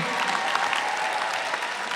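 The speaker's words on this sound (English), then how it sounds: "Let's give a round of applause for the grandparents." A graduation audience at Five Towns College gives a steady round of applause for standing grandparents, dense continuous clapping throughout without a break.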